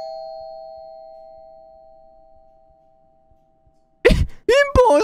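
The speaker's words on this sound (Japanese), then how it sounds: "ピンポン押してんだけど。" A doorbell in a horror video game sounds a single sustained electronic tone that slowly fades over four seconds, then a voice cuts in loudly at the end.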